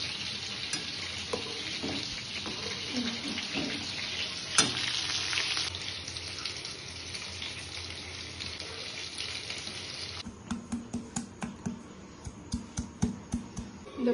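Butter garlic chicken fries in hot oil, sizzling loudly and steadily up close with sharp splatter pops, and a run of quick scraping stirs and clicks toward the end.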